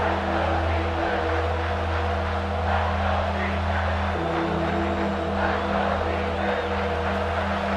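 Football stadium crowd at a Penn State versus UCLA game roaring steadily as the defense faces a red zone stand, a dense continuous wall of noise with engine-like drones underneath.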